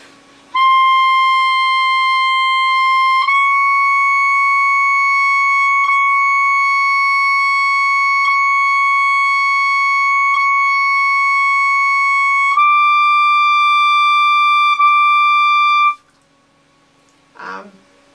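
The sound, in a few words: long tones on high altissimo notes from D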